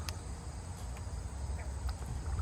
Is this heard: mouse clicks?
no